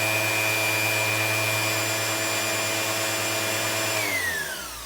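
A Bosch random orbital sander runs with a steady, close electric whine and buzzing vibration, then winds down in falling pitch as it is switched off near the end.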